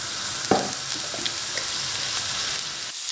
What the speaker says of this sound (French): je vais commencer par colorer l'ail